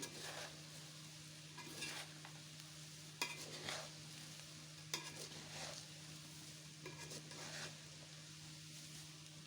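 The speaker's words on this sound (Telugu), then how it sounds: "అటుకులను కూడా యాడ్ చేసుకొని మంచిగా కలుపుకోవాలి" Poha flakes and salt stirred in a pan, soft rhythmic scraping and tossing strokes over a faint steady hum, with occasional sharper clicks of the spoon, fairly quiet and without talk.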